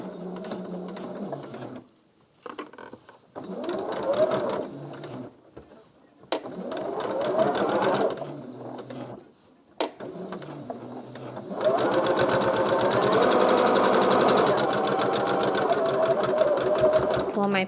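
A sewing machine stitches quilt blocks in close bursts of rapid mechanical chatter separated by short pauses, ending in a longer continuous run, while a person talks over it.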